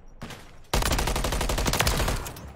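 Call of Duty MW3 gunfire: a short opening burst, a brief pause, then a loud, sustained stream of rapid automatic shots that fades slightly near the end.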